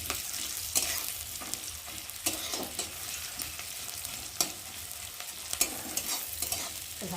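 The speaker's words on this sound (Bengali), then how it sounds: "পেঁয়াজগুলো একটু ভালো করে ভেজে নেবো, একটু নরম নরম হবে" Onions frying in a pan, a steady bright hiss of oil with occasional stirring scrapes and taps, fairly quiet and close.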